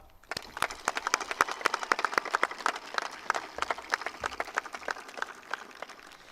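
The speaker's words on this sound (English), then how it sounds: "Please give your teachers a well-deserved wave as you exit our BP campus today, and a round of applause now" A graduation audience applauds teachers at the Bristol Plymouth campus, with dense, steady clapping from many hands that holds at a moderate level and stays fairly close throughout.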